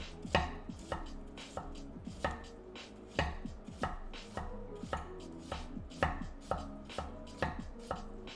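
A knife chops through firm cabbage on a cutting board in steady, evenly spaced thuds, about a dozen crisp strikes at a slow, measured pace, close up and without speech.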